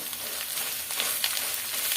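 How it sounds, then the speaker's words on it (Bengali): Steady hissing sizzle of food frying in a pan, close and continuous, with faint scraping now and then. "এখন একসাথে করে সব ভেজে নিতে হবে"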